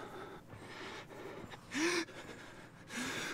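Enemy in the Outlast video game breathing heavily inside a locker, several sharp gasping breaths over a low steady background, moderately close and unaccompanied by talk.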